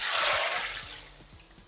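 Hot oil, used to fry mint leaves and onions, poured into a pan of chicken curry, giving a brief, close, broad splashing pour with a faint sizzle that fades toward the end.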